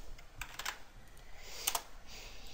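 Quiet typing on a computer keyboard while writing code, scattered key clicks in short bursts with pauses, faint and close.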